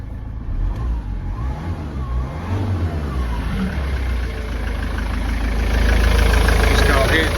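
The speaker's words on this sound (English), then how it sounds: "start the engine. We just let it run." A Ford Transit MK7 2.4 diesel engine idles steadily close by, a low rumbling hum that holds even throughout, with no voices over it.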